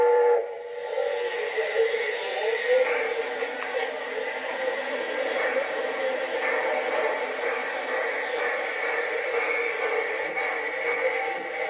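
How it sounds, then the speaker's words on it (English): A narrow gauge steam locomotive on the Roaring Camp and Big Trees railroad at Bear Mountain lets out a long, steady whistle over hissing steam, loud and sustained through the whole stretch with faint rumbling beneath. "the engineer pulls out the throttle of the steam locomotive and begins the steep, curving climb to the summit"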